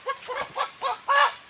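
A chicken clucks five times in quick, uneven succession, the last call longest and loudest, close by and clear with no talking over it.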